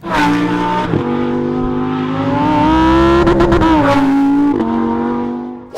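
A loud Italian sports car engine runs close up with a strong, buzzy tone, holding steady then climbing and dropping through sharp revs before settling again.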